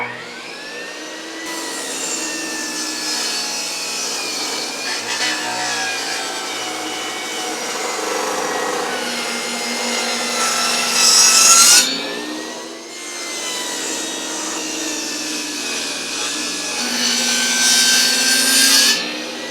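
A power saw blade cuts through a wooden board for a porch railing, a loud steady whining rasp in two long passes with a brief dip between them.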